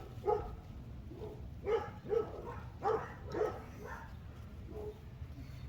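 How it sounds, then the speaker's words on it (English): Dogs bark in the distance, about six separate woofs spaced irregularly over a low background hum. "Sorry about the dogs."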